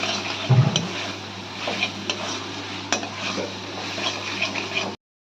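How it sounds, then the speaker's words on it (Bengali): Spice paste for a Bengali coconut prawn curry being stirred and fried in oil in a pan, a steady soft sizzle with scraping stir strokes and occasional clinks, fairly close and continuous with no talk. "কষিয়ে নেবো যতক্ষণ না মশলা দিয়ে তেল ছাড়ছে"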